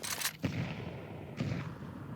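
Two grenade blasts in a Counter-Strike match at a StarLadder Budapest Major game, each a sharp booming burst with a rumbling tail, about a second apart and heard over low game ambience.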